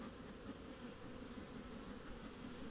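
Bees inside a beehive box give a dense, steady buzzing drone, continuous and faint, with no talk over it.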